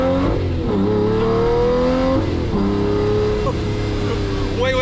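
A powerful 2006 Lamborghini Murciélago Roadster engine revs and shifts steadily, loud and close, the pitch rising and dropping through the gears, with a voice faintly underneath.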